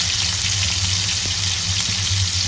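Pieces of rohu fish fry crisp in a pan of hot oil, a loud, dense, continuous sizzling hiss over a low steady hum, close by and without pauses.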